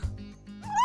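A puppy gives a short whimpering yelp followed by a rising whine, close and fairly clear, in an animated cartoon with no speech over it.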